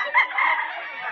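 A rooster, a stag, crows in a single steady call at an early-morning pet market, loud and close, with no talk over it.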